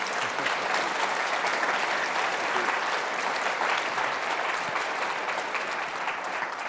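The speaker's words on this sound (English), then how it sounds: "let's give them a round of applause here" Strong, continuous applause from a live conference audience for an eye-care industry panel, dense steady clapping filling the space without a break.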